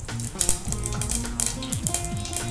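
Mustard seeds and cumin crackling in hot oil for a Kerala-style avial, sharp irregular pops and sizzle close by, over a soft background with faint tonal music.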